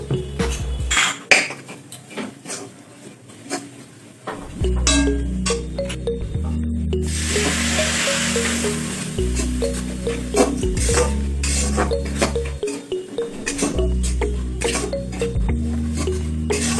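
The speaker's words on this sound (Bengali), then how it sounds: "এবার ধনে গুঁড়ো, জিরের গুঁড়ো ও গুঁড়ো লঙ্কা দিয়ে সামান্য জল দিয়ে নেড়ে নেব।" Spoonful stirring of ground coriander, cumin and chili powder with a little water in a pan for Bengali egg korma, steady scraping and clinks of utensil against metal with a low sizzling hum underneath, close and fairly loud.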